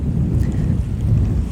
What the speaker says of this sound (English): So here we are with a very windy spot